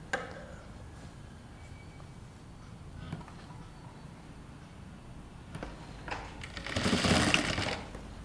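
A sewing machine runs a top-stitch along a princess cut kurta, a fairly quiet whirring hum with light ticks that swells into a louder burst of stitching near the end.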